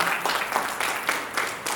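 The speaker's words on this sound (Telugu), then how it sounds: "వాసు గారిని మనం ఎంతైనా అభినందించాలి చప్పట్లతో" An audience at a get-together in a hall claps in welcome, a short burst of steady, moderately loud applause with a faint murmur of voices beneath.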